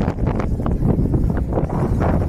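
Gusty wind buffets the microphone in a steady, rough low roar with uneven surges, close and loud throughout, with no voices.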